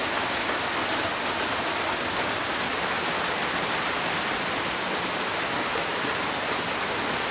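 Heavy rain pours down in a steady, dense, unbroken roar that fills the whole stretch, close and loud, with no talking heard.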